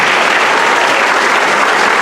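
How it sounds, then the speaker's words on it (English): Steady, dense applause from a large audience at a political speech before a student gathering, loud and continuous with no gaps for its brief span. "A big round of applause for him."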